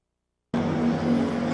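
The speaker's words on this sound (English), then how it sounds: "Well, Bourdais takes the car back out again." A Le Mans prototype race car from the 2000 24-hour race pulls back onto the circuit, its engine droning steadily and loudly after a sudden start, with no talk over it.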